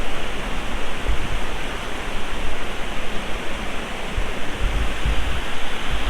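Broad, steady rushing water of a waterfall along the Pueblo, Colorado riverwalk, a constant loud wash with no breaks and no voices.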